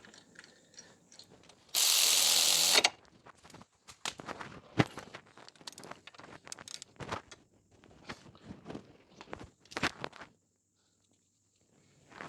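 A ratchet tightens a Ford Focus hub bolt during a right-hand drive shaft replacement, giving irregular bursts of close, crisp clicking with short pauses, after one louder broadband rush near the start.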